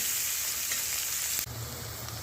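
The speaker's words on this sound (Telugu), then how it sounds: "ఇప్పుడు కొంచెం పసుపు వేసేసి కొంచెం కరివేపాకు వేసేసి మగ్గనివ్వాలండి" Onions sautéing with turmeric and curry leaves in a pan give a soft, steady sizzle that drops slightly in level partway through, with no one speaking.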